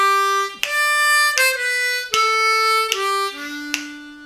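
On a G-key harmonica, an opening lick starts with a four-hole blow and moves through a few single notes that step down in pitch. Each note is held and sharp-edged, up close with no talk.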